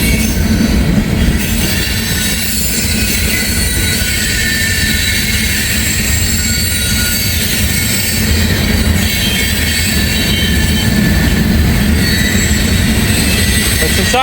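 A fast train rips past on a Kentucky line, a loud steady roar of rolling wagons with squealing wheels and faint clickety-clack that holds from start to finish, close to the listener.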